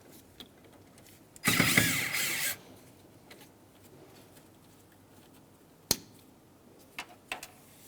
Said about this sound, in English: So we're going to remove these two screws. And they're just short Phillips.